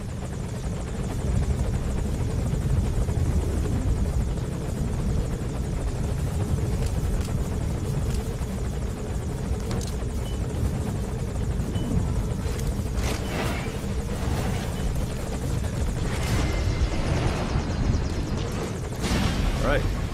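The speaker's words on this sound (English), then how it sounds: "looks like the helicopter has moved into a holding pattern here" A helicopter holds a hovering pattern in Metal Gear Solid 5, its dense rotor roar continuous and loud, with scattered bursts and rumbles layered over the steady drone.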